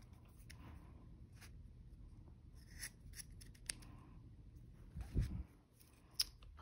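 Scissors snip yarn during a paper plate craft, a few faint, quiet cuts close by, with a sharper snip near the end against a soft background and no talking.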